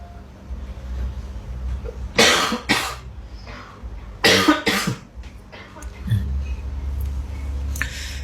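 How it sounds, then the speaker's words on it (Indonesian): Several harsh coughs come in two close bursts over a low background hum, followed by a quieter rustle. "Maaf, ini lagi batuk."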